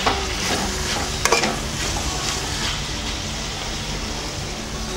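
Onions fry in a pan for an Andhra-style fish curry, a loud, steady sizzle filling the whole stretch, with a few brief clinks of a spoon stirring against the pan.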